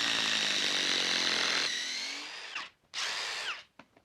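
A Ryobi PBLID02 cordless impact driver drives a screw with a loud, steady, high-pitched whine that shifts in tone partway through, then ends in two short, separate bursts.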